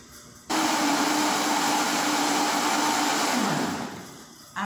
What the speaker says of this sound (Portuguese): No liquidificador, iremos triturar as cascas do abacaxi